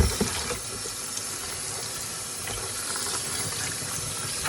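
Running water steadily rinses freshly dyed fabric, a continuous close hiss and splash with faint shifting as the cloth is moved under the stream.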